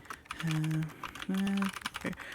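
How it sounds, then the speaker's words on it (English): Someone types on a computer keyboard, giving a quick run of clicking keystrokes under two sustained low tones and soft background sounds. "I'm typing."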